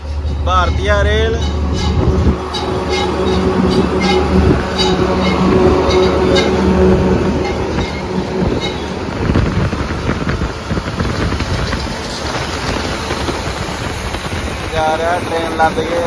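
An Indian Railways train rumbles past with broad, steady rail and wind noise throughout, loud and close, while people talk over it.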